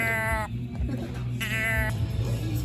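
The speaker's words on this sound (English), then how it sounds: "Are these the ones that make the sound when you turn them upside down?" Two short, wavering bleats from a toy sheep that makes the sound when turned upside down, separated by a pause, over a steady background hum and some murmuring voices.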